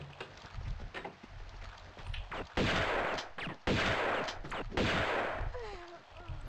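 Gunfire in the video game Tomb Raider II: several sharp shots and bursts, some rapid, ring out loudly in a Venice level. Brief game sounds fill the gaps, with no talk over it.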